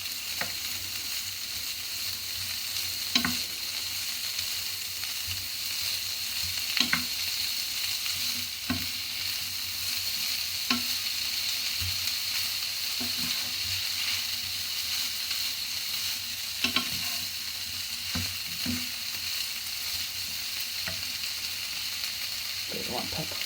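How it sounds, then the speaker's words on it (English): Corned beef sizzles quietly in a frying pan with a steady hiss, punctuated by periodic scraping taps of a utensil stirring it. "Just let that start frying up."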